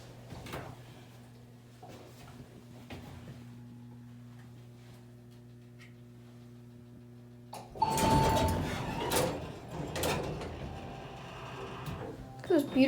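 A Montgomery A-Series hydraulic elevator at Bloomingdale's in Tysons Corner Center slides its doors with a sudden clattering rumble, following a steady low hum, and mechanical knocks continue afterward.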